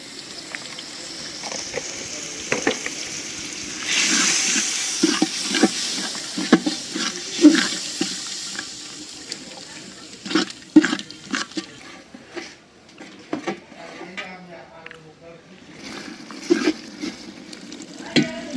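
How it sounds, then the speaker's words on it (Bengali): Ground coriander and cumin sautéing in a pan for a large batch of vegetable khichuri, a steady low sizzle with scattered stirring scrapes and clinks, fairly close and moderately loud, with no talking. "মশলা কষাই নিলাম।"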